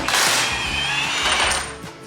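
Milwaukee 1/2-inch impact wrench working lug nuts on trailer wheels during an axle removal, a loud, close, continuous rattling burst with high whine running about two seconds.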